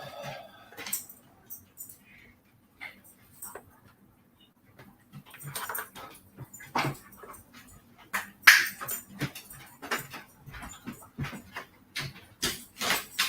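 Dogs heard at a home during a drawing session, with scattered short barks, yelps and whimpers coming in irregular bursts, growing busier and louder in the second half.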